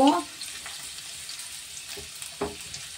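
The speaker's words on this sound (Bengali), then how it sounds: "প্রথমে রসুনটা ভালো করে নেড়ে নেব।" Chopped garlic frying in a pan for chili paneer, a low steady sizzle opening with a louder clink and a couple of short stirring scrapes later on, close and brief.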